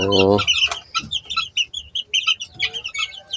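Day-old chicks being moved into a brooder cage give rapid, high, repeated peeps close by, with a voice briefly at the start.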